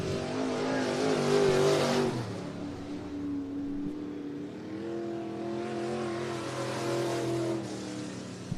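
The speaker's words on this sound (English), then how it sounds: "Jordan Henry as they go down the back straightaway for the final time" IMCA Sport Mod race cars at Cottage Grove Speedway in Oregon roar down the back straightaway on the last lap of a heat race, engines loud and rising, then fading as the pack passes.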